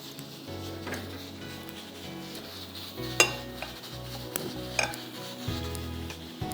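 Chicken being stirred as it cooks in a pot, with metal spoon scrapes and clinks against the pan over a low background hum and a few sharper knocks.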